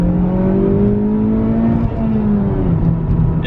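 A 2019 Honda Civic Type R in Sonic Grey Pearl accelerates hard in second gear. Its engine drones loud and close, climbing steadily in pitch with a brief dip midway before pulling on.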